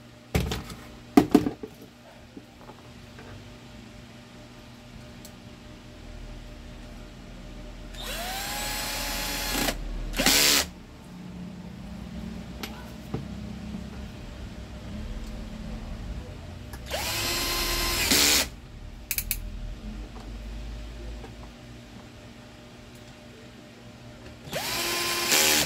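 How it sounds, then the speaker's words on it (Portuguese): Power screwdriver driving screws into a fan bracket during fan repair, several short loud whirring bursts spaced seconds apart with quiet handling noise and clicks between them. "próximo passo agora é colocarmos aqui, ó, esse suporte de volta com os quatro parafusos"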